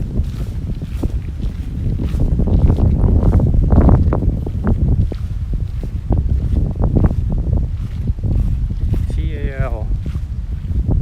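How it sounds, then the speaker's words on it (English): Strong gusts of wind during a storm in Tokyo roar steadily into the microphone, loud and continuous, with a person talking over the buffeting throughout. "so windy"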